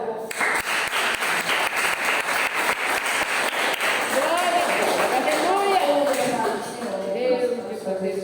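A church congregation claps in steady unison, sharp evenly spaced beats under a singing voice during a morning service, the clapping fading after several seconds while the voice carries on.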